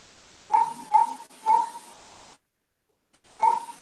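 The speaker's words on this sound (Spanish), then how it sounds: "se debe escuchar todos los ladridos" Dogs barking in an outdoor patio: four sharp, close barks, three in quick succession and then one more after a short silence.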